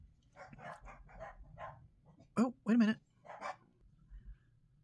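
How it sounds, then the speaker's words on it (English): A house dog barks a few times nearby, the short loud barks mixed in with someone talking. "Dog started barking."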